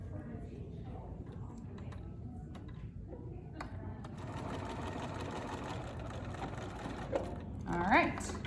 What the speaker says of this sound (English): Let me sew this one right quick